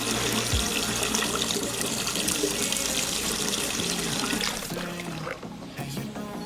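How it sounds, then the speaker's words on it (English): A steady stream of liquid splashes and trickles continuously as a person urinates outdoors during a mountain road trip, close and fairly loud, tapering off toward the end. "I'm just pulling in to evacuate some of the water in my system."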